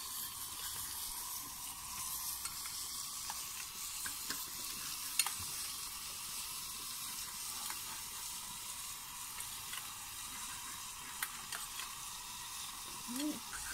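Food is stirred and mixed in a frying pan, with a faint steady sizzle and occasional soft scrapes and clinks of a utensil and no clear talking.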